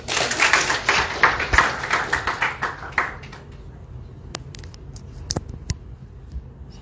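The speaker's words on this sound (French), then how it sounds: "Sous vos applaudissements, s'il vous plaît." Audience applause at a Comorian community gathering in Senegal, a dense burst of clapping for about three seconds that thins into scattered claps and taps, fairly close and loud.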